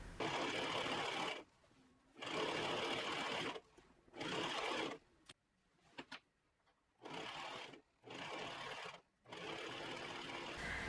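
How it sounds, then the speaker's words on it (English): A domestic sewing machine stitching gold kaftan fabric, whirring in several steady bursts of one to two seconds each, separated by short pauses and brief stops, close and clear with no talking. "While I was at the machine, I also just used the presser foot as a guide to sew this"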